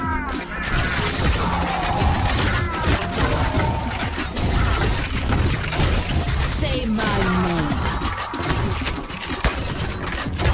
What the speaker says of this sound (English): the Ion Bow can be fully charged to unleash about 30 bolts in a rapid, wild succession